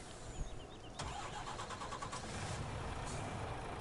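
A truck engine starting in Farming Simulator 19, a sharp crank at about one second catching into a steady mid-pitched idle that holds to the end, with no talk over it.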